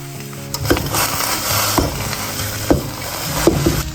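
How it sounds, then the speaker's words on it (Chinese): Potatoes stir-fried in a pan with ginger powder, Sichuan pepper powder and salt, a soft sizzle with a few spatula scrapes and knocks at irregular intervals, close and moderately quiet. "然后把洋芋下进来， 稍微放点姜粉、花椒粉、盐、鸡精"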